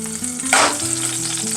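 Mixed vegetables with garlic and onions sauté together in a pan, a steady close sizzle with a brief louder hiss as food shifts, under a low background hum.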